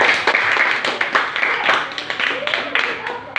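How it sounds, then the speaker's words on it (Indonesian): A primary school class clapping for classmates, with uneven, close hand claps rising and falling while voices talk over them. "Kita berikan tepuk tangan dulu kepada teman-teman kalian"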